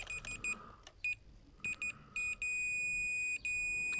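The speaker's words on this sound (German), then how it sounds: "wenn ich diese zwei zusammen habe, dann piepst mein Messgerät" A digital multimeter set to continuity mode, testing the boundary loop wire of an Automower robotic lawnmower with no loop signal, gives short high-pitched beeps in several separate bursts before one long steady tone that runs to the end.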